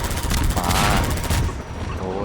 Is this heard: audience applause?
no